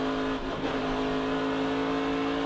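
A loud NASCAR Craftsman Truck Series race truck engine drones at a steady pitch at Phoenix Raceway, dipping briefly near the start as it shifts gear before holding on.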